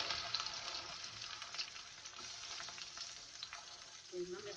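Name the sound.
onion, garlic and green chillies frying in oil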